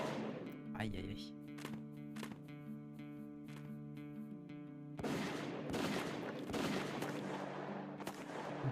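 Shotgun blasts in a western-themed platformer video game, a quick cluster of sharp reports early on followed by denser booming gunfire and music, fairly faint, with a voice commenting over it.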